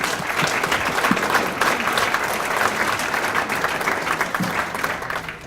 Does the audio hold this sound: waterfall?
no